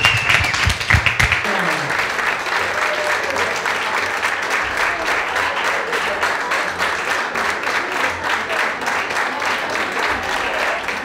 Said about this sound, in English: And how about if we give them a round of applause,